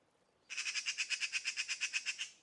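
A loud in-game bird squawks in a rapid, evenly pulsed run of harsh calls lasting about two seconds, close and alone, in the Russian Fishing 4 fishing game at the Sura river.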